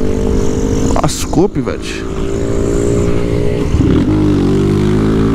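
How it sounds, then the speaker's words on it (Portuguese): A 160 cc motorcycle engine revved to full throttle with the clutch pulled in, a loud continuous rising and falling roar with a brief dip near the middle, while someone speaks briefly over it. "Aperta a embreagem, acelera o acelerador até o talo."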